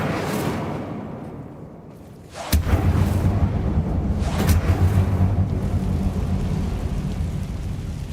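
An Incendio fire spell is cast inside a tomb-like mine in Hogwarts Legacy: a sudden loud whooshing blast bursts in after a quieter stretch, then a sustained roaring rumble follows, alone with no talking.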